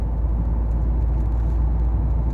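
Interior drone of a Ford Focus MK1 with an automatic gearbox driving along, a steady, even low engine and road hum with no speech.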